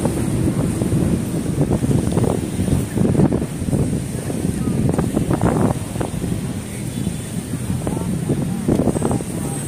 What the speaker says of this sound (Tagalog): Dito banda, medyo may na yung hangin.